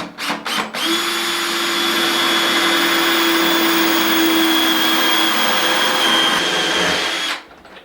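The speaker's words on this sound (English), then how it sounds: "We're going to use our tile drill bit that we mentioned earlier." A power drill with a tile bit whines steadily for several seconds at close range, grinding continuously through tile before winding down; no talking.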